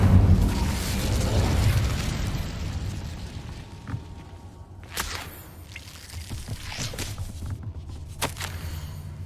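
The Incendio fire spell in Hogwarts Legacy sets off a loud whooshing burst of flame at the start, followed by crackling and sharp pops that fade as the fire dies down.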